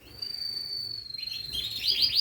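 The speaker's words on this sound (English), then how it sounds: "the old male canaries going a bit nutty there today" A male canary sings in a home aviary of finches and canaries, a sustained high whistle leading into rapid bright trills and chirps, close and loud.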